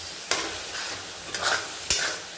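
Spiced potato masala for dhaba-style aloo being roasted and stirred in a pan, three distinct spatula scrapes over a low, constant sizzle, close up with no voices.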